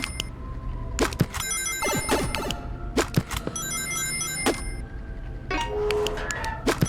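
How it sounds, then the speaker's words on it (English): Chiming notification alerts in a Sonic horror video game, several short bright electronic tones recurring over a steady low hum mixed with sharp clicks and thuds. "Oh, there's the notification."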